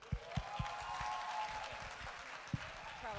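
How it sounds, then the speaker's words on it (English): An audience at a university investiture ceremony applauding, a faint distant wash of clapping with a few sharper nearby claps and a low murmur beneath. "Everyone, please join me in a round of applause."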